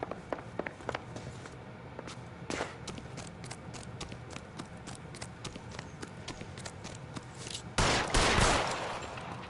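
Gunfire in the video game L.A. Noire: scattered sharp shots spread across the stretch, with a louder, longer blast near the end over a rough background.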